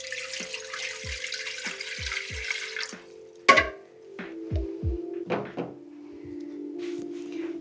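Water from an osmosis filter tap runs steadily into a measuring container while bread dough is prepared at home, with several soft thunks of the vessel being handled and set down nearby.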